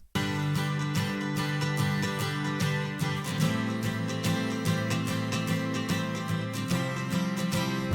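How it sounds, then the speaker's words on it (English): Two acoustic guitars panned left and right play together, one strumming a steady rhythm while the other adds brighter accents, filling a full, continuous mix. "one acoustic doing the main rhythm, the other acoustic doing kind of an accent"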